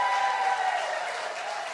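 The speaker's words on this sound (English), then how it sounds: "Give them a round of applause." Dense, sustained applause from a telethon audience fills the room for a couple of seconds at a steady loud level, with no voices on top.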